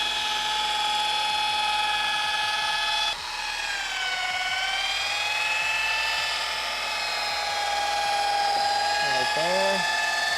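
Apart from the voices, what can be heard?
polishing machine buffing a car headlight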